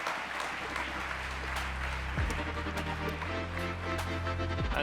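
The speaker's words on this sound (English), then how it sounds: "Applause for Longenesis." Applause from an audience at a tech startup pitch competition finale, a soft continuous patter over low droning background tones.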